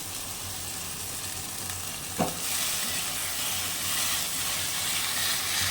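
Prawns fry in a pan with poppy seed paste, a steady sizzling hiss with stirring throughout and one brief scrape near the start.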